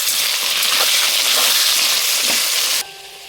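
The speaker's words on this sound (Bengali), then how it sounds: "একটু ভেজে নিয়ে থাকি।" Carrots, potatoes and green chillies with salt frying in a pan, a loud continuous sizzle with occasional soft stirring knocks that cuts off abruptly near the end, leaving a quiet room hum.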